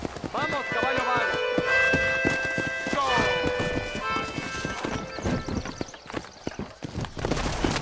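Horse hooves clip-clop quickly and rhythmically in Red Dead Redemption on PS5, and a whinny rises early on, all under ongoing talk.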